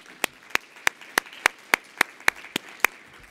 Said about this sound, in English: I want to give you an applause on that